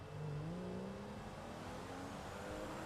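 Engine of a Pfister Comet, the Porsche 911 Carrera lookalike in GTA 5, droning steadily with a rising pitch as it accelerates, fairly constant level, no talk.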